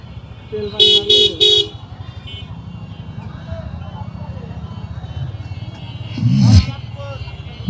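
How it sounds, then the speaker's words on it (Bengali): Car horns honking in a city traffic jam, three quick loud toots early on and a longer blare later, over a steady idling engine rumble, with someone talking throughout. "আর এই শহরের ভিতরে এই টাইমে এত জ্যাম হয় যা বলার মতন না।"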